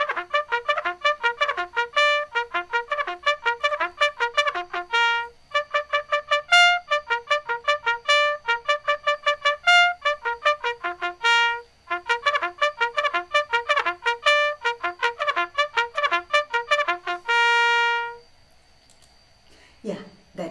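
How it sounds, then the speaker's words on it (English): A bugle plays alone in a quick, lively call of rapid, clear brassy notes. After a long held final tone it stops, followed by faint handling noise. "that is the sound of a bugle"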